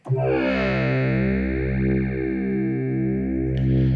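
A bright, buzzy FM synthesizer tone, the Synth Comp 3 preset in HALion 7, sounds as a single sustained note with a rich, metallic shimmer, steady and loud throughout.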